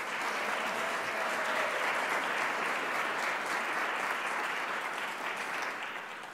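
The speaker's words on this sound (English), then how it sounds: "See, now you get two applause" Sustained audience applause at a policy forum on babies and children, a full, even patter of many hands that swells and then eases off slightly toward the end.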